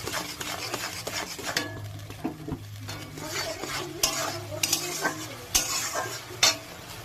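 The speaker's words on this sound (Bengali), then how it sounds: "পরিমাণ মাত্র হলুদ, স্বাদ মতন লবণ, ভালো করে নাড়াচাড়া দেবো" Turmeric and salt are stirred into fish curry spices in a pan for a rohu dish, a steady scraping stir over a soft sizzle with light clinks of utensil on metal, close and continuous.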